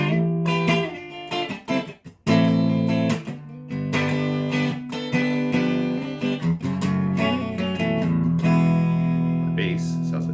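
Epiphone Les Paul–style guitar with double humbuckers played clean on the middle pickup setting, sustained chords and picked notes ringing steadily and close for about ten seconds, with no talking.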